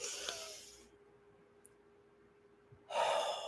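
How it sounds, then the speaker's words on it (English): A deep breath in and out during a calm breathing exercise, heard as two soft, airy rushes, one at the start and a stronger one at the end, with near-silence between them. "Take another deep breath in."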